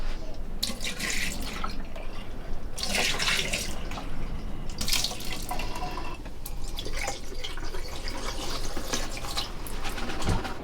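RV antifreeze poured from nearly empty gallon jugs into the sink P-traps of a Winnebago Micro Minnie 2100BH, a steady splashing and trickling of liquid into the drain, close and continuous, no voices.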